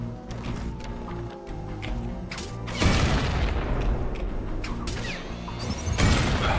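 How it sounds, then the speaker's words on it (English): Exploding hook points in a video game go off as a heavy boom and crash near three seconds and another near six, over a background of game music and mechanical clatter, with no talking. "these hook points explode"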